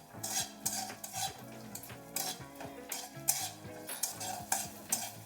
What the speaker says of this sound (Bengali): গোটা ধনে, গোটা জিরে আর গোটা গোলমরিচ একটু ভালো করে বেশ ভাজা হয়ে গেছে